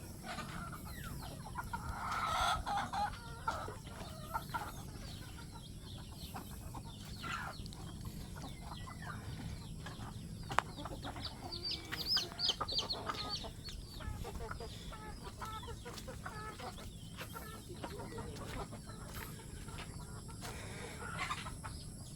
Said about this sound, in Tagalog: Ito yung mga alaga namin manok.